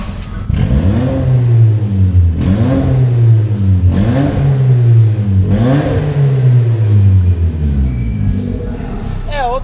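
A car with a stainless steel exhaust diffuser and a 3-inch exhaust tip revs loudly and repeatedly, its engine note climbing and dropping in several rising sweeps before settling into a steady idle.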